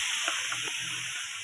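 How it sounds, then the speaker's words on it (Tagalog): Tofu frying in a pan hisses in a continuous, fairly loud crackle with no voices over it. "So, yan natin napiprito yung tokwa."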